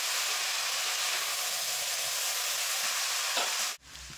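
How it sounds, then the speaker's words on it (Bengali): Boiled chow mein noodles are tossed and stir-fried with fried vegetables, giving a steady, loud hiss and sizzle that runs unbroken before cutting out abruptly near the end. "এবার সবজির সঙ্গে কিন্তু আমি মিশিয়ে নেবো চাউমিনগুলো"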